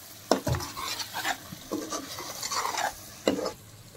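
Biryani masala mixture with bagara masala being stirred in a frying pan for egg dum biryani, repeated scraping and stirring strokes with light sizzle, close and steady.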